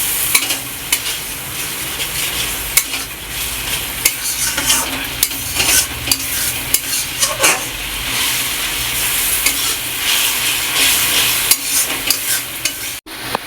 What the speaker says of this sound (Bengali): এবার এটাকে খুব সুন্দর করে কষিয়ে নেব।